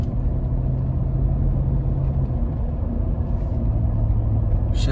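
A 2007 Cadillac Escalade with 290,000 miles drives along with a steady, loud engine and road rumble from inside the cabin; a low engine tone drops slightly midway as the transmission shifts, with no talking.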